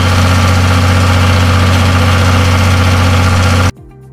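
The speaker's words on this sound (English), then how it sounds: "And when you go up those big hills, your car will sound like this." A small car engine drones loudly and steadily while straining up a steep hill in Madeira, a constant close mechanical hum that cuts off abruptly near the end.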